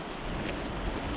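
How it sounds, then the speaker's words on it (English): Cold, breezy wind at the Grand Canyon rushes steadily across the microphone as a broad, constant roar with no pauses, close and moderately loud throughout the short stretch. "That wind is cold."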